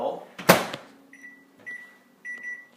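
A microwave oven with a metal rack inside is shut with a sharp thud, followed by a few short electronic beeps as it is started, close and clear.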